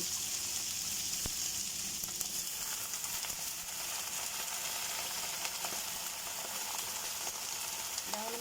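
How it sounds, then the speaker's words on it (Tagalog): Dalag mudfish fries in a pan with a constant, bright oil sizzle and crackle, steady and close throughout, with a few faint clicks of utensils and no speech. "Prituhin natin para hindi malansa."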